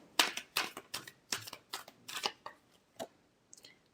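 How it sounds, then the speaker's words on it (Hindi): Tarot cards being shuffled, a quick series of crisp riffling snaps and slaps, roughly a dozen short bursts close to the mic at fairly even spacing, fading to a few softer taps at the end. "last shuffle"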